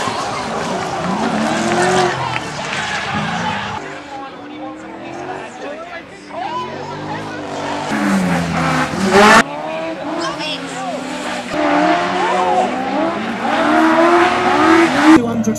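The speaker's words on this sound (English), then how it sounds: "they go dab at the handbrake because Cotton now brings it onto you" Cars drifting at Three Sisters circuit during a BDC drifting event, loud engines revving and tires squealing in long sustained howls, with a commentator talking over the action.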